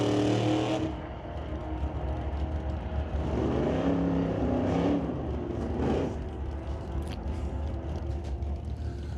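Pickup truck drag racing down a lane at an NHRA Northwest National Open Series event, a loud steady engine roar filling the clip with a brief swell as it passes, under no talk.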